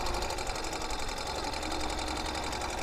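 Custom 2023 Ural Gear Up sidecar motorcycle in Rainier White cruising at low speed around a building, its engine giving a steady, continuous drone with a fast regular pulse and constant loudness throughout.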